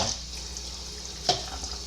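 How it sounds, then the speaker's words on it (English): Water being poured into a plant propagation container for a hydroponic and terrarium setup, with a soft trickling wash throughout and one brief splash or clink partway through. No one speaks. "A little water in there."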